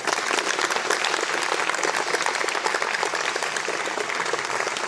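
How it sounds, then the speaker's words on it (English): Steady, dense applause from an audience honoring cadets at an AFROTC flight academy graduation at Fairmont State University, sustained at even loudness throughout. "give a round of applause to our cadets"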